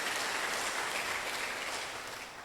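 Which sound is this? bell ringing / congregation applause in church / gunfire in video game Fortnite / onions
congregation applause in church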